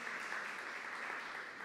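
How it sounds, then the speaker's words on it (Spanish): Steady, dense applause from a church congregation fills the space at an even, moderately loud level, a continuous wash of many hands clapping without a break. "Un aplauso a Dios por esto."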